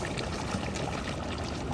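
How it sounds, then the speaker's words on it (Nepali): Water poured off while cooking biryani, a steady, continuous rushing splash that fills the whole moment at close range with no voices. "बिरयानी बनाउँदाखेरि चाहिँ पानी यसरी फाल्नुपर्छ हेरौँ"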